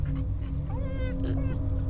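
A puppy in the horror game Fears to Fathom gives a few high, wavering whimpers close by, thin and pitched over a low steady background hum.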